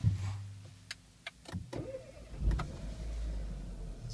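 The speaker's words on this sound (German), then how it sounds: "Wir machen mal hier den Motor an." A 2014 Renault Clio GT is started: a few short clicks and whirs lead into the engine catching and settling into a low, steady idle, close by with no talk.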